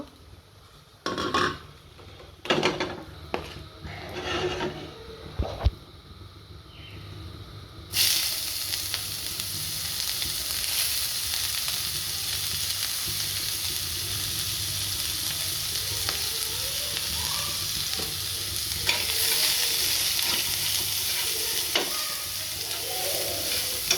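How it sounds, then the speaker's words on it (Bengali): Garam masala spices dropped into hot oil for a soybean curry give a steady, bright sizzle that swells after a few sharp clinks and taps at the start, then holds a continuous frying hiss with small pops. "এটা গরম মশলাটা দিয়ে দিলাম প্রথমেই তেলে"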